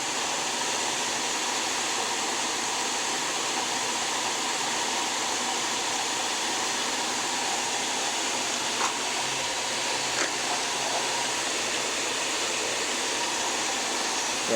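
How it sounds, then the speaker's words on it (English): Air rushes steadily through a swimming pool pipe while a vacuum is being primed during a pool-to-koi-pond conversion, a continuous broadband hiss and roar holding unchanged throughout, close and moderately loud. "You can hear all the air. That means it hasn't been fully evacuated the vacuum yet."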